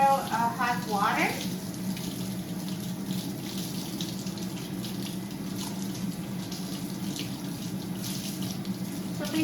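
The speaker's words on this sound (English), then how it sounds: "let's take the sauce packet and just put it under hot water" Hot water runs steadily from a kitchen tap over a frozen sauce packet, a continuous close splashing rush after a brief clatter at the start.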